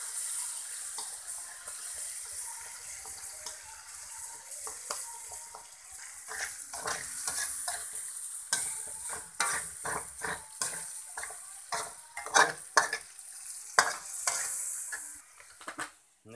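Mussel porridge ingredients stir-fried in a pan, with a steady sizzle broken by frequent scraping and clattering spatula strokes that grow busier and louder toward the end.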